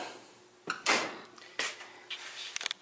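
The wiring drawer on a chassis-swapped 1964 vehicle is worked in a quiet garage, with a few short scraping slides and clunks followed by a quick rattle of small knocks.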